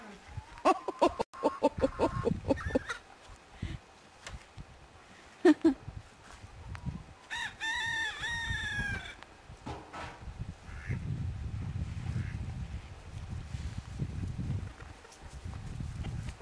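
Chickens and ducks in a backyard flock cluck and call at close range, with scattered squawks and a burst of higher calls, mixed with footsteps and rustling.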